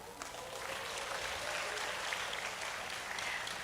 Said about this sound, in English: why you get so big applause